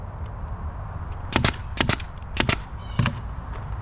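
A nail gun fires into a wooden board on a DIY planter box, giving four or five sharp, close pneumatic bangs spaced irregularly over a low background hum.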